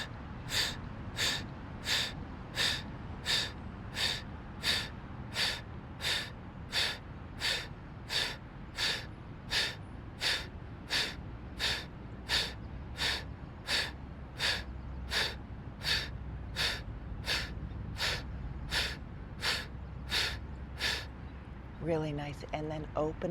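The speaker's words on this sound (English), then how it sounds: "let's just do breath of fire," Rapid rhythmic forceful exhalations through the nose during yoga, about thirty sharp puffs at an even pace of roughly one per second, close and distinct, ending with a brief bit of speech.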